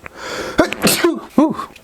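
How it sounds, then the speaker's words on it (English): A person sneezes loudly and close up, with a sharp inhaled build-up and forceful burst, then a second gasping sneeze-like burst moments later. "I gotta sneeze after that one"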